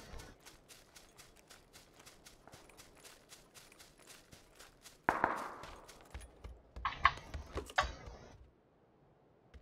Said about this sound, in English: Okay, the gunshots are decently loud.